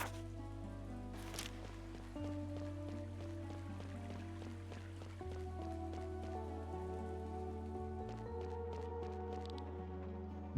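Heavy rain falls steadily in the video game Chained Echoes, a dense continuous patter layered over sustained low musical drones, with no voices present.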